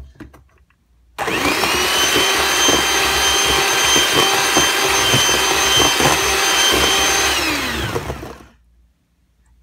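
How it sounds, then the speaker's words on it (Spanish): Electric hand mixer beating muffin batter with vanilla and oil for chocolate-flavored raspberry and blueberry muffins, a steady close whirring motor hum with faint rattling against the bowl, switched on and running evenly for several seconds before stopping. "Agregamos la vainilla, el aceite. Y batimos un poco más."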